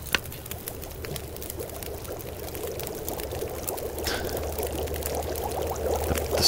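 A survival character in the wintry game The Long Dark drinks water, heard as a steady close gurgling, pouring sound running continuously under a faint background hum.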